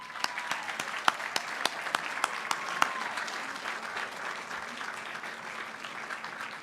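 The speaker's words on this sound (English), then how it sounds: "let's start with a round of applause for third grader Athena Belloso" A school board meeting audience applauds a third-grade student, sharp individual claps standing out early over a sustained crowd clapping that continues evenly throughout.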